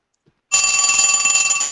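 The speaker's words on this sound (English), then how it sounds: "I'm getting a phone call on the Fortean Slip hotline." A telephone bell rings abruptly and loudly after a moment of silence, a rapid continuous trill sounding close and alone.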